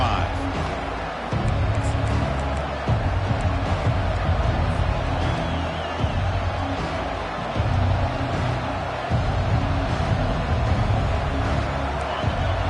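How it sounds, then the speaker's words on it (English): Loud, continuous roar of a large football stadium crowd, a dense wash of voices and cheering that swells and dips without pause. "this crowd is fired up. Listen to this noise here."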